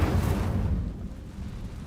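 A fire spell is cast in Hogwarts Legacy, a loud, close whooshing burst that fades over about two seconds, with no talk.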